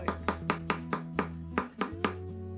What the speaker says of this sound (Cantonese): 挖出嚟嘅茄子切碎。